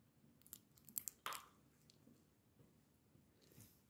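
A dog crunches on a crunchy treat at its first birthday, giving a few sharp, close crunches and chewing snaps in the first half before quieter, sparse chewing noises.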